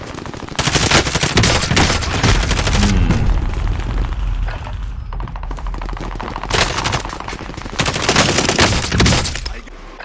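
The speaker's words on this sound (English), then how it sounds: "The hip fire feels more natural to me, with submachine guns at least." Submachine gun hip fire in Call of Duty Warzone solo battle royale, loud sustained automatic bursts with a brief lull in the middle before firing resumes, heard up close without talking.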